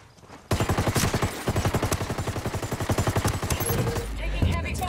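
Sustained heavy automatic gunfire in the Ghost War video game, a dense rapid burst of loud close shots running nearly continuously, with faint speech mixed in.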